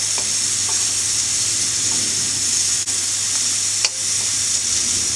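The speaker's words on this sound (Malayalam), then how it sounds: "നമ്മുടെ സവോളയൊക്കെ നന്നായിട്ട് വഴന്നുതുടങ്ങിയിട്ടുണ്ട്." Sliced onions with a little turmeric powder sautéing in a pan for mutton curry, a steady close sizzle with a couple of faint stir scrapes, no talking.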